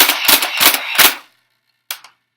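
A Nerf Stampede ECS spring-powered toy blaster fires a quick burst of three or four loud, sharp snapping shots in rapid succession. After a short silence comes a fainter clack.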